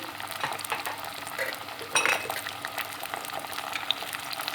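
Chickpeas and water are stirred in a pot, a spoon scraping and sloshing with a soft bubbling underneath and one brief louder clatter midway, close and steady.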